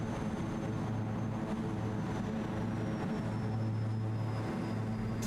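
Propellers of a BN2T Turbine Islander in Microsoft Flight Simulator 2020 run in reverse pitch, giving a steady, loud turboprop drone with a low hum that stays constant throughout, no talking.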